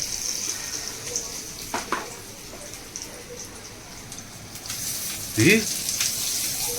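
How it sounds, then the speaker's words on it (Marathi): Garlic frying in spiced masala oil for a tempering, a steady soft sizzle with faint crackles throughout, swelling briefly into a louder burst of spitting near the end, while a voice talks quietly in the background. "लसूण थोडी मसाल्यामध्ये फ्राय करून टाकली"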